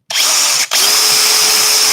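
A power drill bores through a glued wooden workshop sign, a loud close high whine with a brief stop and restart partway through.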